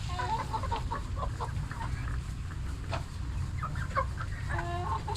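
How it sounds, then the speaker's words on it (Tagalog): Farm chickens cluck and squawk in repeated short bursts as they gather to be fed, several birds close by over a low steady background, with no talking. "Ating mga chicken, kain na natin yan. Ayan na, dadatingan na, marunong na sila sa tawag ayan."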